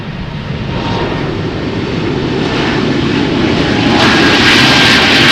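Roaring jet airliner engines on takeoff at Amsterdam Schiphol, runway 36L: a loud, broadband, continuous rumble that swells toward the end, heard up close and alone.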